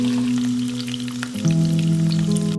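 Fish pieces frying in shallow oil in a pan for a Bengali mustard fish curry, a steady close sizzle with faint crackles that shifts and grows slightly louder partway through, with no talking.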